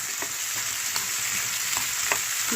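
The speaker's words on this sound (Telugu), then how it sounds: "నేను ఉడకబెట్టుకున్న శనగలు వేసేసి ఇలా కలిపేసుకోవాలండి." Boiled chickpeas hit a pan of frying onions with a continuous close sizzle while a spoon stirs them through, leaving a few soft scrapes and taps over the crackle; no voices.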